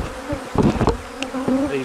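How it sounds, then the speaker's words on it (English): Honey bees buzz busily around an opened hive after a long dearth, their close, wavering drone swelling and fading as individual bees pass near. "As you can see, there's more bees wanting to get in."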